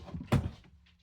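A drawer bumps shut with a short wooden thunk after scissors are put away during household spring cleaning, a soft rustle before it and a faint tail after, no talking.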